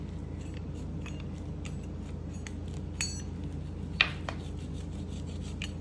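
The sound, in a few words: pizza cutter cutting sheetpan crunchwrap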